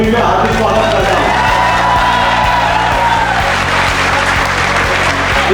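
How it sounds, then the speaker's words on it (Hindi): Loud applause and cheering from an auditorium audience at a nursing seminar in Jaipur, with whoops over steady music with a heavy repeating beat throughout. "एक बार जोरदार तालियां राजेश सर के लिए"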